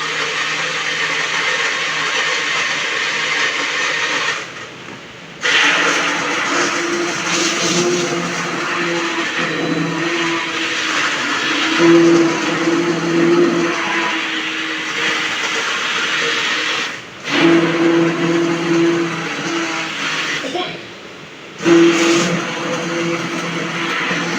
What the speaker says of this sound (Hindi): ब्लेंडर ले आऊँगी।